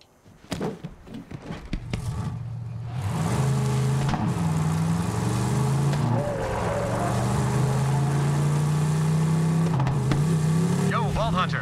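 A dump truck engine in the video game Borderlands 3 starts with a few clunks, then drones loudly and steadily as the vehicle drives along, with speech over it.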